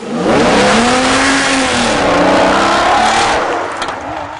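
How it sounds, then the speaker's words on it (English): Aston Martin DBS driven hard on a time trial lap, its engine loud and close, rising and falling in pitch as it revs up and shifts, with a broad roar of road noise. "So it's a first ride in the DBS for Darren"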